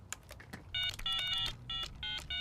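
A telephone is dialed, with a short run of distinct touch-tone beeps in an uneven rhythm against quiet room noise.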